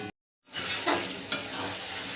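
Chicken with spinach sizzling in a pan while being stirred, a steady close frying hiss with scraping stir strokes after a brief silent gap at the start.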